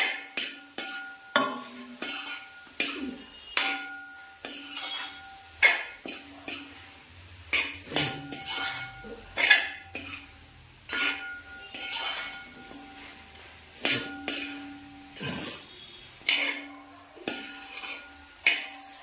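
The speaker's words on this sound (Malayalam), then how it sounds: "ഇനി നമുക്കിതിലേക്ക് നമ്മുടെ ചിക്കൻ അങ്ങ് ഇട്ട് കൊടുക്കാം. കൂട്ടി ഇളക്കാം." Chicken is stirred into masala in a metal pan, with a spoon scraping and clinking against it in a steady rhythm of strokes and only a light sizzle underneath.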